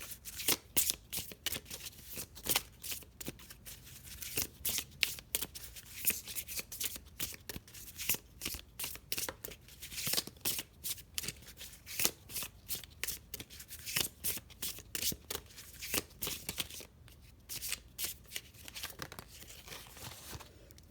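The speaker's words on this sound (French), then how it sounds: "Il y a deux cartes qui sont tombées." Tarot cards are shuffled by hand in a continuous run of crisp riffling and slapping, a rapid irregular flutter heard close up with no talking.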